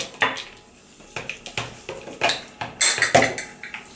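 Walnuts are stirred into a carrot tarator mixture in a bowl, giving a series of irregular scraping and clinking knocks of a utensil against the bowl, close and fairly loud.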